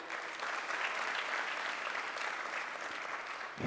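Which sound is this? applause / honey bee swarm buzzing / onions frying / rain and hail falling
applause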